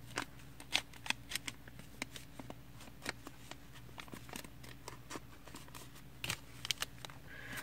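Sheets of paper are firmly pressed and creased while an origami paper plane is folded, producing a series of crisp, irregular taps and rustles close by in a quiet room.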